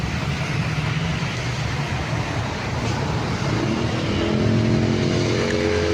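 A broken-down vehicle's engine runs steadily at the roadside after an on-the-spot repair, a continuous low rumble with a slight rise in revs near the end, no speech.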